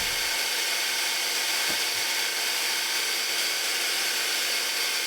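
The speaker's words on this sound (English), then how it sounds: "You're going to be blitzing it for a while. Blitz and scrape and blitz and scrape." A food processor blitzes a thick pumpkin collagen bread batter, a loud, steady whirring roar that runs nonstop throughout with no talking.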